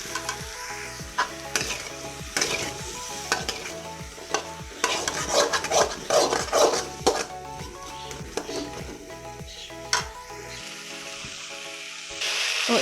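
Ivy gourd (kundru) frying with salt in a pan over a high flame, a steady sizzle broken by repeated close scrapes and knocks of stirring, with no talk.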